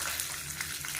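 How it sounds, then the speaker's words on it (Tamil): Mustard seeds and urad dal sizzle in hot oil for a village-style kootanchoru, a dense, even crackle and fizz that carries on steadily up close with no talk. "எண்ணெய் சூடானதும் 1 டீஸ்பூன் போல் கடுகு, 1 டீஸ்பூன் உளுந்து சேர்த்துக்கலாம்."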